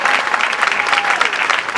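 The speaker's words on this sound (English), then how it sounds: "Show yourself some love by giving yourself a hand of applause" An audience at a youth leadership talk in Ghana claps together, a dense, even burst of applause that stays loud and steady for the whole short stretch.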